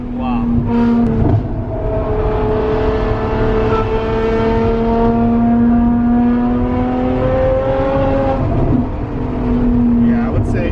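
A Ferrari F12's V12 engine revs hard while driving, with steady rising and falling harmonic tones across the whole stretch and voices talking over it inside the car.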